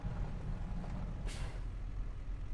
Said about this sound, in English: It took way too long for brakes to apply.